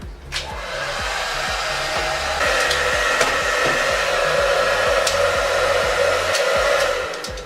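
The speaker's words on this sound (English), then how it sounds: "we're just going to use this hair dryer. Turn it on here." Handheld hair dryer on a cold setting blows steady air onto a screen-printing screen to dry and harden the emulsion, a loud continuous whooshing drone with a faint motor hum that runs unbroken with no talking.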